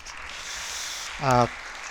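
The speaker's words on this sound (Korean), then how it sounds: "여러분 박수 좀 부탁드립니다." At an academic conference on Gaya history, the audience claps in a steady, broad hiss of applause, and a voice briefly speaks over it partway through.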